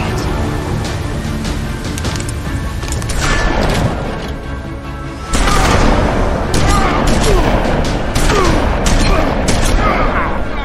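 Gunfire aimed at a werewolf in The Wolf Among Us video game rings out as a dense burst of sharp, loud shots and booms, growing heavier partway through, with speech in the mix.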